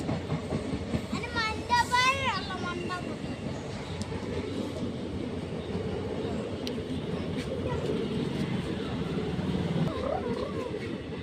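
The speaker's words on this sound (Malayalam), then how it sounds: "ട്രെയിൻ പോവാണ്." A large passenger train rumbles past nearby on the tracks, a steady heavy roar lasting throughout with a horn-like tonal burst early on and fainter wheel clatter underneath.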